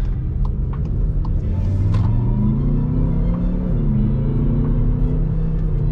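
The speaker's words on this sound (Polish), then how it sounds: "Oczywiście auto zarąbiście mruczy." Skoda Kodiaq RS 2.0 BiTDI diesel SUV, 240 hp, 4x4 with DSG, gives a deep, steady engine rumble with a droning tone that slowly rises and dips. It is close and loud throughout, with no talking.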